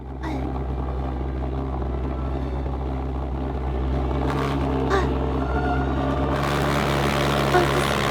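A homemade jet engine fed from an upside-down liquid propane bottle roars steadily and loudly up close, a harsh continuous rumble with rising hiss and surges toward the end.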